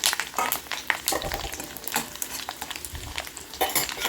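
Dried red chillies fry in a pan with a busy, close crackling sizzle, broken by sharp clicks and scrapes of a spoon stirring against the metal.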